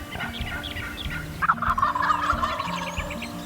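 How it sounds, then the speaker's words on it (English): A wild turkey gobbles during a Michigan hunt, a loud rattling gobble close by, following softer clucks in the first second. "do the right gobble that time"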